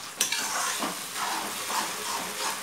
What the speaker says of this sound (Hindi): मसाला हमने इसमें डाल दिया है और तेज करके हम इसे अच्छे से मिक्स कर लेंगे